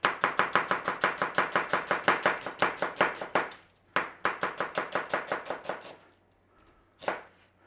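A knife chops onions on a board in rapid, even strokes, two quick runs of crisp close taps separated by a short pause, then a final lone chop.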